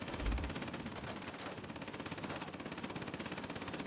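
Rear gunner of a Messerschmitt Me 210 in World of Warplanes firing a machine gun, a fast continuous rattle of shots, fairly quiet and steady for the whole stretch, no speech.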